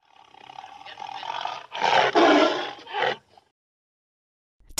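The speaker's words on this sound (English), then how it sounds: "Tiger." A tiger roars in several loud, raspy bursts, the middle ones strongest, then trails off into silence.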